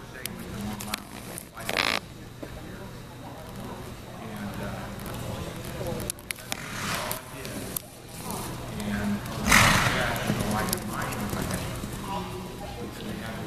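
Welsh pony hoofbeats in a youth working English pleasure judging arena, soft clip-clop steps moving at a walk, with an announcer and people talking over them and a brief louder scuffle partway through.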